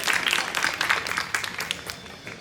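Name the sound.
audience applause at Independence Day program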